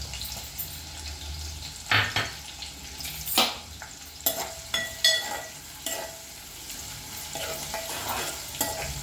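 Onions frying in a pan for a carrot fry, with a steady soft sizzle broken by several sharp scraping stirs of a spatula against the pan, close and moderately quiet.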